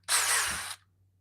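Milwaukee M12 compact cordless drill spinning at its second speed setting, a short steady high whine lasting under a second at close range before stopping abruptly.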